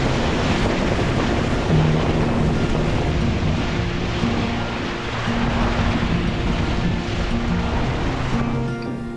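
A sailboat under way on a smooth ocean off Madagascar, with the wind forward of the beam: a continuous loud wash of water and wind buffeting the microphone, with a faint low hum underneath.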